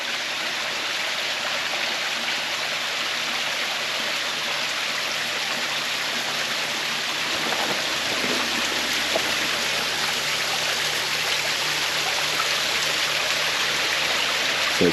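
Water filters through and runs into a creek on rural property, making a steady, even rush of flowing water throughout with no talk.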